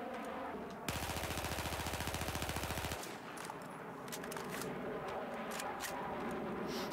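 Automatic weapon fire in Battlefield 4 rips out as one sustained rapid burst of evenly spaced shots lasting about two seconds, loud and close, followed by quieter game ambience with scattered faint clicks.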